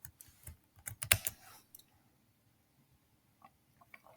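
Query typed on a computer keyboard: a quick run of close, crisp key clicks that trails off into a few scattered taps over quiet.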